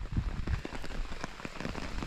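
Steady rain patters on a tarp at a beach camp on an island in northern Australia, a dense close drumming of drops with no voices.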